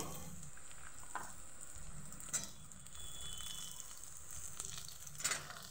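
Okra (bhindi) frying in a pan, a quiet, steady hiss of sizzling oil with occasional faint stirring knocks, heard close but at low volume.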